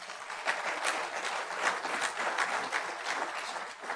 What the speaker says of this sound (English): You may applaud for him.